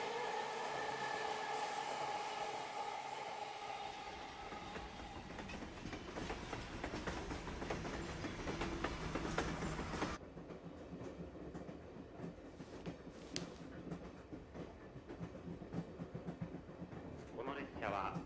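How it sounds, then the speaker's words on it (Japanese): A train in the video game Persona 4 Golden rides along its rails, with a steady rumbling clatter that continues throughout, loud at first and then softer as the sound changes partway through. "この列車は間もなく終点八曽根丘陵に到着します。"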